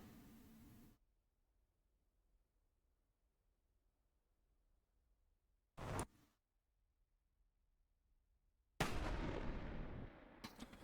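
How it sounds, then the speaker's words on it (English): In a flight combat simulator, a missile launch starts with a short blast, then a sharp burst after a long silence, and finally a loud roaring whoosh that slowly fades. "There goes the missile"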